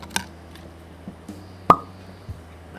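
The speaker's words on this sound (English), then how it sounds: "Nice little cork pop." A cork pulled from a Widow Jane 10-year overproof bourbon bottle gives one sharp, close pop midway, with a few soft taps and handling sounds around it in a quiet room.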